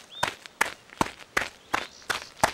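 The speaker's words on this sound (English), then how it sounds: "Lion stomped his feet to the beat." Feet stomping to the beat in a children's animal story, six evenly spaced thumps in a steady rhythm, fairly close and moderate.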